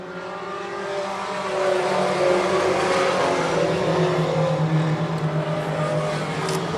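Four-cylinder pro race cars roar around the track on the final lap, a continuous loud engine drone swelling as the pack passes near, with faint tire squeal near the end and no talking.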